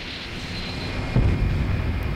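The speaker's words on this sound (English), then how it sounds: "Now the missile begins its pop-up maneuver." A rising whoosh and rumble of an AGM-84 Harpoon anti-ship missile in flight during its pop-up maneuver in the Falcon BMS 4.33 flight simulator, starting as a steady hiss and swelling louder midway, with no voices.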